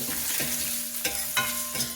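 Curry leaves and grated coconut fry in hot oil with a bright continuous sizzle, punctuated by several short clattering scrapes of stirring, close and clear with no speech.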